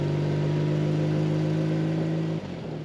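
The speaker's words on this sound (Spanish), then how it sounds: "Este motor boxer de BMW bicilíndrico de primeras generaciones de los años 70" A 1982 BMW R100 RS boxer twin motorcycle engine idles with a steady, strong low hum and buzzing overtones, then the tone drops briefly near the end.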